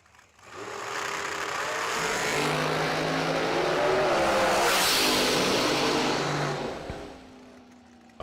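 Two K&N Pro drag racing cars at a summer drag strip event roar down the track, engines swelling to a loud sustained blast before fading away.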